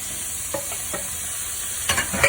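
Fresh tomatoes go into a pan of cooking spices for Greek yemista, a constant bright sizzle with light scrapes and a clatter of stirring near the end, heard close with no voices.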